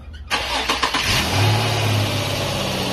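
An Infiniti G35/G37 VQ engine fitted with a cold air intake cranks and catches after a brief pause, then settles into a loud, steady idle with a few early surges, heard up close and alone.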